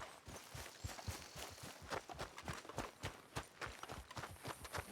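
Horse hooves clip-clop steadily in Red Dead Redemption 2, a fast, even run of hoofbeats carrying on throughout at moderate volume.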